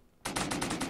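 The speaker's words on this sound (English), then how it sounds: "Come on, cannons. Do me proud." Cannons fire in the Rimworld video game, a sudden burst of rapid, evenly spaced loud blasts in a quick rolling volley after a short quiet moment, with no voices.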